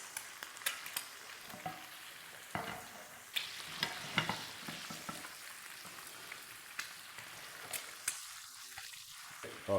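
An egg fries in melted butter in a pan with leftover potatoes, crackling and sizzling steadily at close range, with scattered spatula scrapes and clicks over the sputtering.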